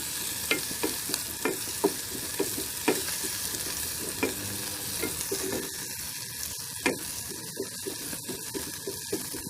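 Chopped ginger, onion and green onion frying in a pan for Indian-style pasta, a steady sizzle with regular scraping strokes of a spatula stirring, close up and continuous.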